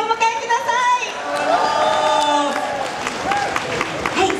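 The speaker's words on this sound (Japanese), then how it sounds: "どうぞ大きな拍手でお迎えください" An audience at a Japanese event breaks into applause to welcome a guest singer, a dense wash of clapping mixed with crowd chatter and scattered cheers, steady and fairly loud throughout.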